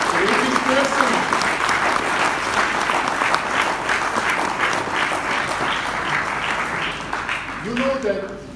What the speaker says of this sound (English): big round of applause for these courageous persons